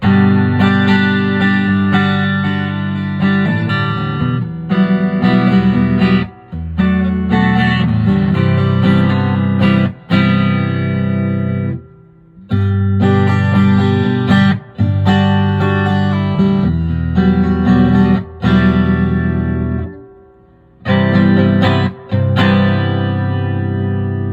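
A Fender ST-XII electric 12-string guitar on the neck pickup alone plays sustained, heavily effected chords with a rich, shimmering, distorted tone, continuous with a few brief pauses between phrases.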